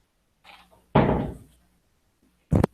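A door opens for a small dog indoors, with a soft rattle, then a loud heavy thump and scrape of the door moving, and a final sharp knock-like clack.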